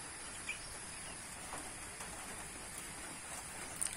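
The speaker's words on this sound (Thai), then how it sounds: "พร้อมกับฝนตกและลม" Soft, steady hiss of falling rain with wind outdoors, faint and continuous, with a few small chirps and taps scattered over the wash.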